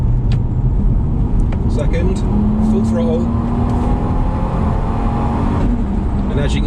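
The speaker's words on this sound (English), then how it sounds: "I'll shift down, and then we'll try some full throttle stuff" A Lexus IS200 with an automatic gearbox pulls hard at full throttle in second gear, its engine note climbing steadily and loudly beneath a continuous talking voice.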